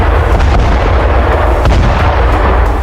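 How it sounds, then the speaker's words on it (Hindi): A drone strike hits a building in Jenin in the West Bank, giving a loud, continuous roar of blast and rumble with sharp cracks scattered through it and no voices. "इजराइल ने एक इमारत पर जबरदस्त ड्रोन अटैक किया, जिसके बाद बड़ा धमाका हुआ"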